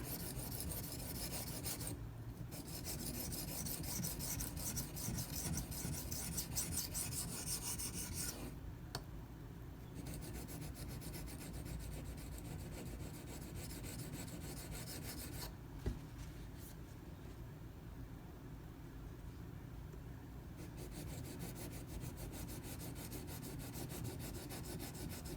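A Benchmade 9400 knife being sharpened on an 800 grit stone, giving steady, close rasping strokes that run on with only brief pauses.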